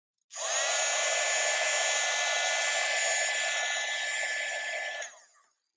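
A heat tool blows steadily for about five seconds while heat embossing onto a plastic shaker panel, a close, loud whirring hiss with a high fan whine that starts abruptly and then winds down.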